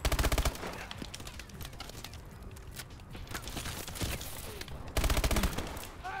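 A light machine gun firing in Call of Duty: Advanced Warfare, with rapid bursts of automatic fire at the start and again near the end and scattered shots and game noise between, loud and close.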